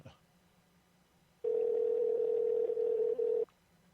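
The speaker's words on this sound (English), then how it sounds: "it's just going to ring and ring" A telephone call rings unanswered, heard as one sustained ringback tone of about two seconds between quiet stretches, faint and steady.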